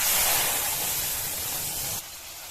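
Masala poured into hot oil with black cumin, giving a loud, steady sizzling hiss that eases slightly and drops off abruptly toward the end.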